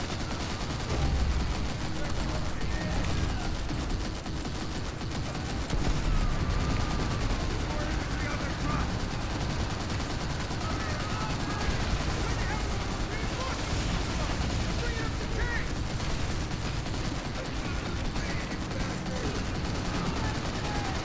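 Triple 25 anti-aircraft guns fire continuously in the video game Call of Duty: World at War, a dense, loud, unbroken roar of rapid gunfire with a voice talking over it.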